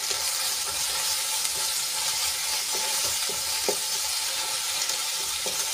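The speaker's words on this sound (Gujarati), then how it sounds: "હવે બધા મસાલાને આપણે 1 મિનિટ માટે સાંતળી લઈશું" Masala spices with salt and chilli sauté in a pan for a curry gravy, producing a loud, dense, continuous sizzle with faint stirring clicks and no talking over it.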